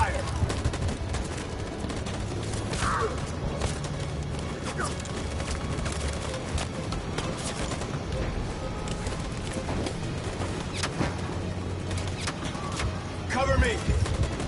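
Rapid bursts of gunfire from a PS4 shooter game fill the scene, dense and continuous with scattered sharper shots and explosions, while voices talk over the action.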